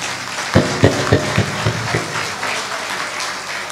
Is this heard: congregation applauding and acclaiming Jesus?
yes